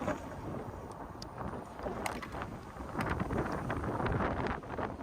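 Steady wind buffeting the microphone during an e-bike ride along a downtown riverwalk in Columbus, Georgia, a continuous low rumbling roar with gusty swells throughout.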